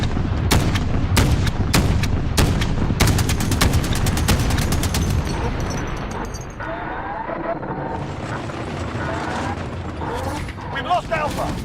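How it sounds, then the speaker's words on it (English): Explosions and gunfire from a cruise missile strike in Call of Duty: Modern Warfare (2019) multiplayer, a loud run of sharp blasts and bursts in the first half that thins into rumbling battle noise while voices talk over it. "Allied cruise missile away."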